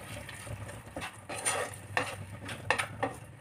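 Sauces are stirred together with paneer in a hot pan for chilli paneer, producing repeated scraping strokes against the pan over a soft sizzle, close and moderately loud, with no talk.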